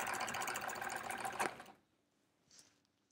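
A small sewing machine quilting runs in a fast, rattling, cranky-sounding whir for about a second and a half, then stops abruptly, leaving near silence with a faint brief noise.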